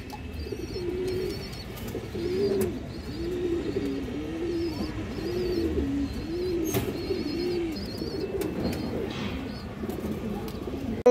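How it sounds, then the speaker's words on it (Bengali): A pair of green-necked pigeons coo in a repeated rhythmic series of low, rolling calls, close by and continuous, with faint chirps and rustling in the background. "সারাসারি লাইনের এক পেয়ার সবুজ গলা কবুতর মাশাআল্লাহ"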